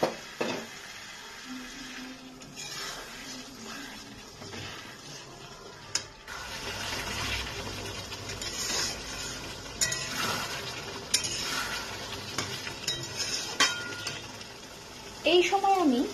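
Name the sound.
spice paste frying in pan with added whisked yogurt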